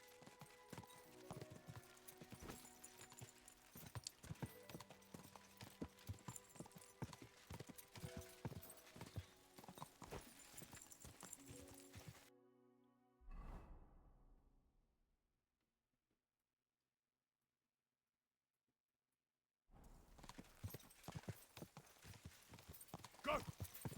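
Horse hooves clip-clop in the medieval game Kingdom Come: Deliverance 2, a steady close rhythmic trot that cuts to silence midway, then the hoofbeats resume near the end.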